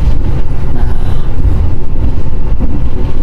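Loud, steady low rumble of an Indonesian express train running through a tunnel, with dense low-frequency roar and faint rattling throughout.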